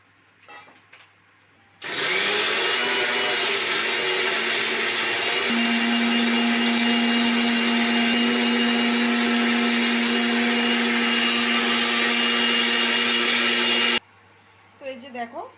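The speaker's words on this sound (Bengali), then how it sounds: "জন্য এই যে আরেকটা মিক্সির জার নিয়ে নিয়েছি।" A mixer grinder blends paneer masala ingredients with boiled water in its jar, roaring loudly and steadily for about twelve seconds. Its pitch settles into a strained whine, with brief quieter handling before and after.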